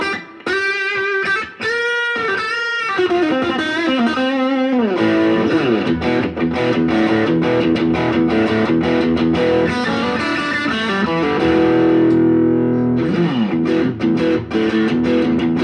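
Distorted rock guitar through a Bugera G5 Infinium amp head, loud and close, with choppy chord stabs at the start giving way to sustained overdriven riffs and held notes, no voices.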